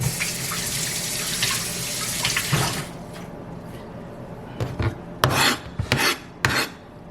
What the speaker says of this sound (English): And I'll just rinse it off to get the seeds out.